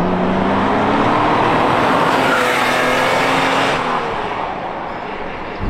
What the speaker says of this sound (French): on sent dès qu'on démarre que le moteur est très rond, que c'est un moteur qui est doux